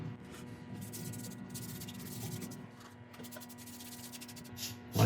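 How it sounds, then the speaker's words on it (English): A sponge rubs shellac onto turned burl wood in soft, continuous swishing strokes, close and quiet with a faint steady hum beneath. "I'm using my trusty sponge and a yogurt pot to apply the shellac."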